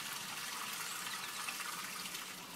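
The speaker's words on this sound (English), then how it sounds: "You can hear the water down there, hear that?" Water flowing beneath drain holes in a Japanese street, a steady, even hiss and rush with no other sounds.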